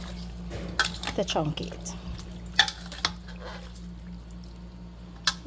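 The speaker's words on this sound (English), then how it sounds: "So I'm going to give this a good mix" A mixture is stirred in a bowl ahead of cooking: scattered scraping, clinking and wet sloshing strokes come in uneven bursts, fairly close and quiet, with a few spoken words over them.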